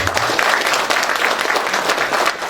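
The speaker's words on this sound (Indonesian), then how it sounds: "Tepuk tangan untuk ibu." A seated audience at an official nurses' association inauguration in Indramayu claps loudly for the regent, a dense continuous burst of applause, close and sustained throughout.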